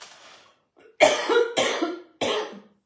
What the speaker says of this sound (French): Qu'est-ce que c'est que cette vilaine toux?